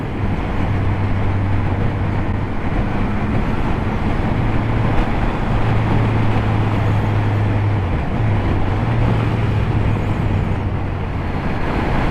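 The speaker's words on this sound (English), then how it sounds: "Oh, some supercars coming down the hill. Lancia Stratos amongst them." Several supercars, a Lancia Stratos among them, driving down a mountain road in the Alps, heard as a steady engine drone with low humming tones rising and falling across the passage.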